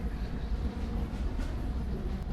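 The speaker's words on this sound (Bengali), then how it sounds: "ট্রেন তো ছাড়ছে তারা" A train pulling out in the mobile game Indian Bike Driving 3D, heard as a dense, steady engine and wheel rumble with no talking.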